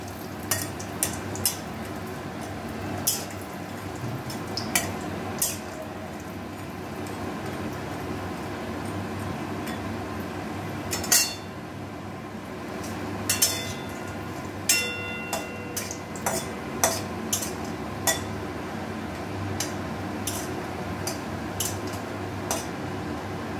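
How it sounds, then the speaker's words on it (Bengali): Bori lentil dumplings fry in hot oil with a continuous crackling sizzle, broken by frequent sharp ticks and spatula scrapes against the pan. "তেলটা গরম হয়ে গেছে, এবার বড়িগুলো ভেজে নেওয়া হচ্ছে।"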